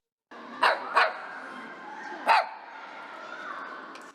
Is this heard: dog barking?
yes